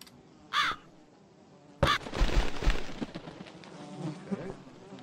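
A crow in the video game The Cat Lady caws twice, the calls widely spaced, with a sudden rumbling burst after the second caw and faint ambient noise filling the rest.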